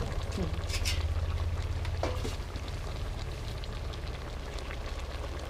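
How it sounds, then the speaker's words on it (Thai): Steady rain pours down, a dense continuous hiss with a low rumble, heard throughout at even strength, with brief faint knocks and clinks over it. "บรรยากาศฝนตกตกนี่โอ้สุดยอด"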